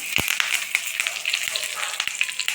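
Peanuts and curry leaves fry in hot oil in a pan for a cabbage-capsicum cheese rice. Dense, close crackling and popping sizzle continues without a break, with occasional sharper pops and no voices.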